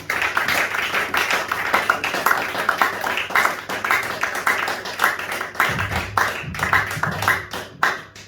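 A church congregation claps in praise during a French-language service, brisk steady rhythmic handclaps from many people filling the room, with a low hum underneath.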